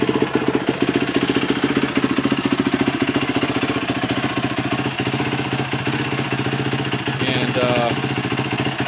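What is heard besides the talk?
Yamaha YZ450F dirt bike engine idling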